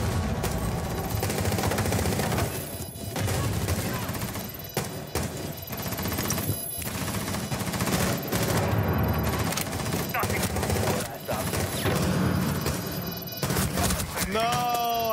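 Rainbow Six Siege gunfire rattles in loud, rapid bursts throughout, mixed with crashes and impacts, with brief pauses between volleys.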